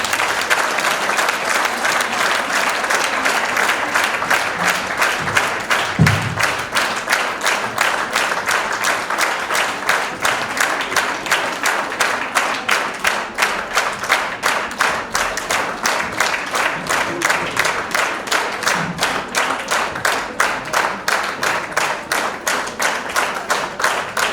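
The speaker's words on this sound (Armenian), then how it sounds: "Եկեք ծափերի ներքո հրավիրենք նրանց բեմ" Sustained audience applause fills a school concert hall at an art school's year-end concert and exhibition, steady dense clapping from many hands throughout with no speech over it.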